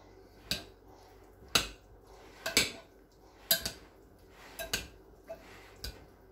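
A spoon stirs chicken broccoli filling in a bowl, giving a scattered series of sharp, close clinks and taps against the bowl in a quiet room.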